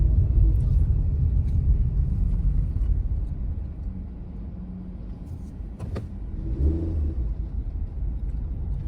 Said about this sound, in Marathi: जोपर्यंत नजर जाईल तोपर्यंत गाड्याच गाड्यात